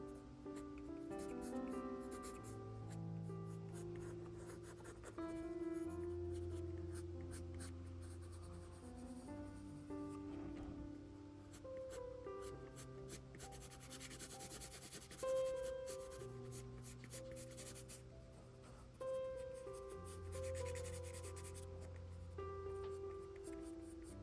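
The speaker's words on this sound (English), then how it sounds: "This 6B pencil also helps to separate the feathers a little bit more." A soft 6B graphite pencil scratches and rubs across paper while shading hummingbird feathers, a continuous close scraping under soft background music.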